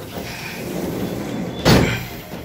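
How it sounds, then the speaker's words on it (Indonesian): A capsule hotel room door in Surabaya opening: a short, sharp clunk partway through, set against a steady background hum. "Nah ini pintu dibuka."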